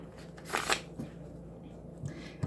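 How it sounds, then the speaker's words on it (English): A deck of tarot cards is shuffled nearby in a quick riffle of crisp flicking bursts, followed by a few softer taps and handling sounds. "I'm being guided to shuffle one last time"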